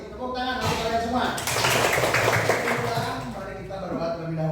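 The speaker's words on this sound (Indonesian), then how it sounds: "Tepuk tangan untuk kalian semua." Pupils in a classroom clap together in a brief burst of dense clapping under children's voices and a teacher's speech, which continue on either side.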